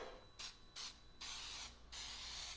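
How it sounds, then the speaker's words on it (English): Several short bursts of cooking spray hiss close up onto a 9x13 baking pan, with quiet gaps between them, the last two bursts longer than the first ones. "I'm going to spray my 9x13 pan"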